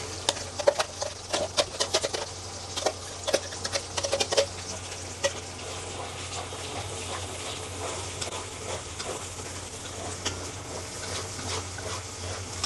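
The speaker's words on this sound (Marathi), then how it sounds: "त्यामुळे चमच्याने हे कंटिन्यू मिक्स करत जायचं" A spoon repeatedly scraping and clattering through thick spiced besan and tomato masala in a kadhai for Puneri misal, quick irregular knocks over a steady low sizzle, close by with no voices.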